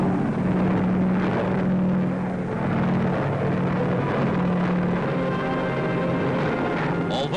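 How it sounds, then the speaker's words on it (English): Large wartime transport aircraft fly low over the sea in the South Pacific, giving a loud, steady engine drone with a low propeller hum that continues unbroken throughout. "the huge transports take no chances as they barely skim the waves to avoid possible attack"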